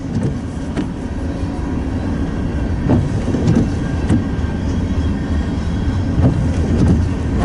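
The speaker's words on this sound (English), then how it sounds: "this is a westbound empty grain train, Union Pacific, on their Transcon line." An empty westbound Union Pacific grain train rumbles past close by on its Transcon line, its wheels clattering over rail joints in a repeating rhythm, with steady heavy rolling noise throughout.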